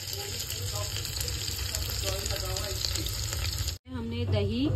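Potato and cauliflower pieces fry in a pan, giving a steady dense sizzle with faint clinks, cut by a brief pause before a louder, wetter crackle resumes; a voice may murmur in the background.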